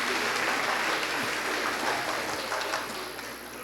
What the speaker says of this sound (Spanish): Un fuerte aplauso, por favor, para estos actores.